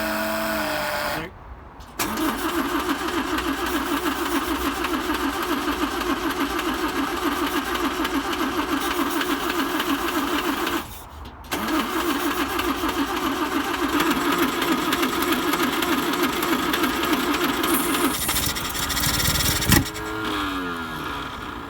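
A 1955 Land Rover Series One engine runs with a loud, close, uneven mechanical clatter, cutting out briefly twice before catching again, and people talk nearby.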